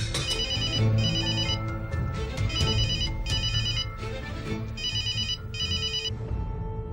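A phone rings with an incoming call, its bright electronic ringtone repeating in short bursts over a steady low musical bed, loud and close, with no talking.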